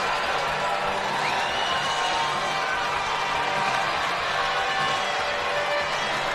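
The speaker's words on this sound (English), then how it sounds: "And the crowd loves it." A large arena crowd at a minor-league ice hockey game cheers and roars steadily during a fight, a loud dense wash of voices that never lets up.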